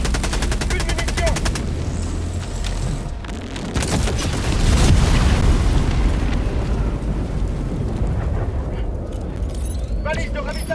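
Heavy bombardment in Helldivers 2, dense, loud rumbling blasts and booms mixed with gunfire that keep rolling in, with a voice talking over the chaos.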